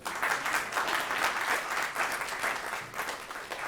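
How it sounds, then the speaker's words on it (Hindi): Theatre audience in a hall applauding loudly and steadily, a dense wash of clapping hands that fills the whole stretch without talk. "आप एक बार जोरदार तालियां बजाएं।"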